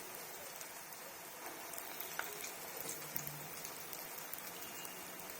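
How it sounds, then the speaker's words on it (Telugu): Lentil fritters (bellam pakam garelu, made from urad dal) deep-frying in hot oil, a steady quiet sizzle with scattered crackling pops, faint and even throughout with no talking. "గారెల్ని ఒక్కొక్కటిగా ఇలాగా ఆయిల్లో వేసుకుంటూ ఉండాలి"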